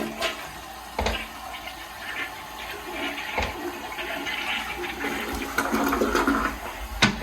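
A hotel-room toilet in a 1960s-built Courtyard by Marriott in downtown Wilmington, a 1.6-gallon-per-flush model, flushes with a loud, close rush of water that swirls and refills steadily for several seconds.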